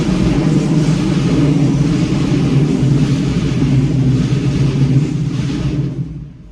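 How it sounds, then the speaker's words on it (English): A train passes overhead on a bridge above a car driving through Camden, New Jersey, giving a loud, steady, continuous roar and rumble for several seconds that fades out at the end. "That was a train or something that just passed over us."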